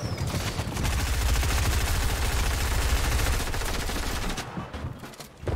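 Shotgun fire and other gunfire crackle in a Fortnite match, a dense, loud burst of rapid shots and blasts that runs for several seconds before thinning out near the end.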